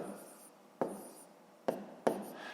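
A pen scratches out numbers for a long division problem in a few short, crisp strokes, close and quiet, with brief pauses between marks.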